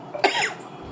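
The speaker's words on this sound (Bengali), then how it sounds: "আমার এই শুকনো কাশিটা খুব হয়েছে" One short, dry cough from a woman with a weather-related cold, close by and sharp, fading quickly into a quiet room.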